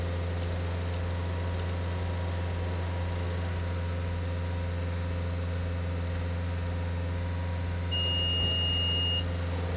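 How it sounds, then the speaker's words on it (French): A car engine holds a steady run at 2500 rpm during a particulate filter rinse cycle, a constant low hum with a droning undertone, joined near the end by a brief high beep. "on effectue le cycle de rinçage moteur tournant à un régime de 2500 tours"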